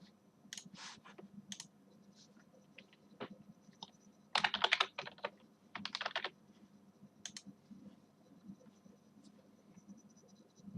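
Keys clacking on a computer keyboard while a new password is entered, quiet scattered taps with a denser burst of rapid typing midway, close and alone.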